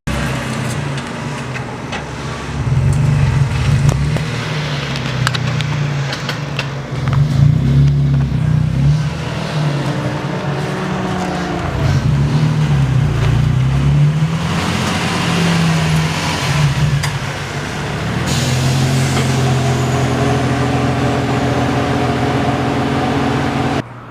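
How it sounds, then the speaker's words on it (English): Car engines idle, rev and pull away in turn as vehicles are moved around, a steady close motor drone with rising and falling surges and a higher whine near the end, no talking. "I'm going to go ahead and move the cars"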